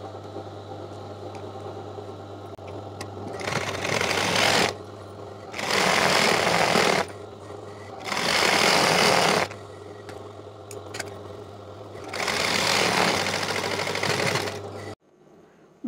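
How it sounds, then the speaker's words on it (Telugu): A sewing machine topstitches a square-neck Punjabi dress in four loud bursts of rapid stitching, separated by short pauses, over a steady low hum. No one speaks. "బాటంకి చివరకు కూడా ఇలానే రెండు సార్లు కుట్టు వేసుకున్నట్టు దీనికి కూడా కుట్టు వేసుకోవాలి"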